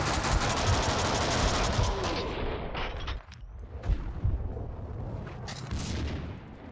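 Rapid gunfire and blasts in the Max Payne 2 video game, loud dense automatic bursts that thin out midway into scattered shots and bangs.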